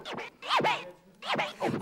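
Quick back-and-forth scratching of a vinyl record, four sweeping strokes in two pairs, loud and close with no voices.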